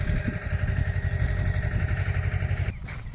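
A tractor drives through a cotton field burying fertilizer, its engine a steady close rumbling drone with a pulsing chug that continues until a brief dip near the end.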